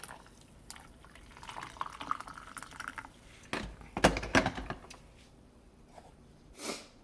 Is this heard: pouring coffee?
yes